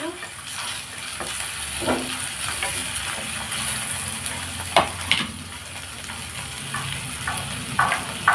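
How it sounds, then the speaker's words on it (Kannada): Tomatoes frying in oil in a pan at home, a steady soft sizzle with occasional stirring scrapes and clinks, close by, with faint voice in the background. "ಟೊಮೊಟೊ ಸಾಫ್ಟ್ ಆಗೋವರೆಗೂ ಫ್ರೈ ಮಾಡ್ಕೊಂಡ್ರೆ ಚೆನ್ನಾಗಿರುತ್ತೆ."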